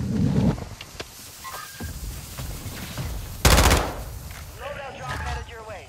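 Rapid bursts of automatic gunfire in Call of Duty Warzone on Al Mazrah, with scattered single shots and one loud, close volley midway, under game effects and occasional voices.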